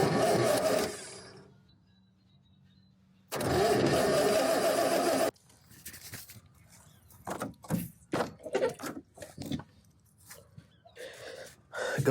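A 1978 Corvette engine, after sitting unused for years, cranks in two loud sustained bursts of roughly a second and two seconds, separated by near-silence, followed by quieter scattered clicks and knocks.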